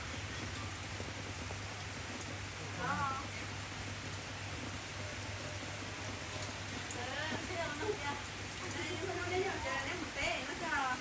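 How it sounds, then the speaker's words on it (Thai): Steady rain falling outdoors, a constant hiss of drops with a low hum underneath and faint bird or animal calls scattered through. "ฝนตก"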